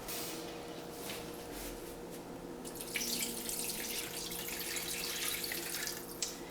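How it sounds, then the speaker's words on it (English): Tap water runs into a cooking pot holding chicken pieces, a soft steady stream that swells into a louder, brighter splashing rush partway through as the pot fills. "we're going to add water until it covers the chicken"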